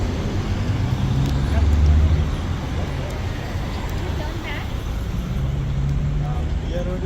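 Street traffic on Rodeo Drive in Beverly Hills, with a steady wash of passing cars and engine rumble nearby and a louder vehicle swelling past, while people talk over it.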